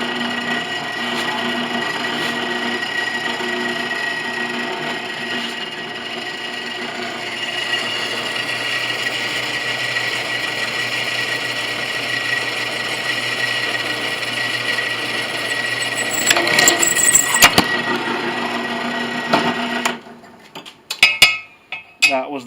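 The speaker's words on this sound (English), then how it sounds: "So I will go ahead and drill those with a drill press." A drill press bores holes through a battery connector for a deep cycle battery install, a sustained whining hum with grinding texture, rising briefly before the motor cuts off and a few clanks follow.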